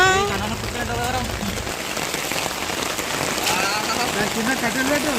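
Steady rain falls and patters on surfaces during a family trip to Medaram after the jatara, a dense even hiss throughout, with a person talking over it in the first part.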